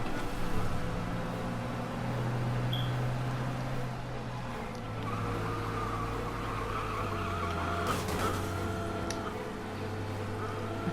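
Cars rev and skid during a police chase in Mafia Definitive Edition, a steady engine drone with tyre squeals rising over it and a sharp crash-like burst near the end.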